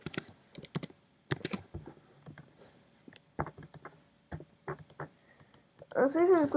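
A password is typed on a computer keyboard in scattered bursts of close key clicks, mixed in with pauses and a voice talking.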